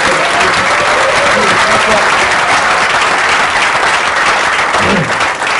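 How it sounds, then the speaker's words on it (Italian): A congress audience bursts into loud, sustained applause, thick continuous clapping that fills the hall at full volume for several seconds without letting up. "facciamo un applauso a Corrado Malanga."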